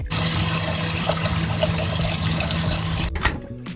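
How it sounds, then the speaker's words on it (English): A strong stream of water runs into a bowl to make ice water, a loud, steady rushing fill close by that cuts off near the end with a brief splash. "Now I'm preparing a bowl of ice water"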